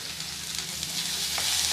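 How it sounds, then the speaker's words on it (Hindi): Onion frying in a pan for chilli fritters produces a steady, close sizzle with one brief stirring scrape near the end, and no speech. "और प्याज के दिए भाजमा।"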